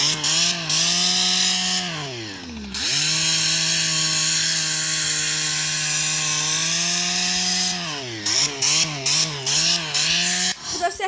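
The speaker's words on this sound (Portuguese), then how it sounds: "Esse aqui tem a motosserra." A chainsaw-style engine sound on a motorcycle, a loud buzzing drone that holds steady, dips and rises in pitch, then breaks into quick choppy revs near the end, close and dominant.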